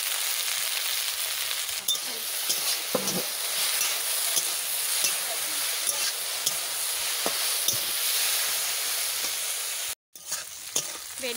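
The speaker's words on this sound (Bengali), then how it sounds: "ভেন্ডি প্রায় ভাজা ভাজা হয়ে গেল" Okra frying in a pan seasoned with turmeric and salt, giving a steady close sizzling hiss with a few soft clicks of stirring and a brief drop near the end.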